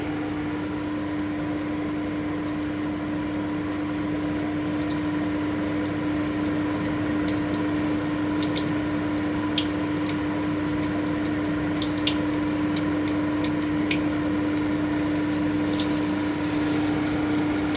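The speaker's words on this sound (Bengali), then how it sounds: "এবারে আমি তেলে দিয়ে দিচ্ছি আমি আরও একটা দিয়ে দিচ্ছি" Stuffed bread pakoras fry in hot oil, giving a steady, even sizzle that holds for the whole stretch with small crackling pops scattered through it, close and continuous with no talking.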